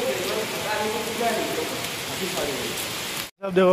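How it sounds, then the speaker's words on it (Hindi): Heavy rain pours in a dense, steady hiss, close and loud, with a voice speaking over it before a brief cut near the end. "देखो कितना बारिश, अभी बारिश दे रहा है पूरा"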